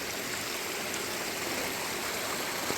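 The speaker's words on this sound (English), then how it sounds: "little water bubbling up out of the mountain" Steady rushing and bubbling of spring water running out of a mountainside, continuous and fairly close, with no voices.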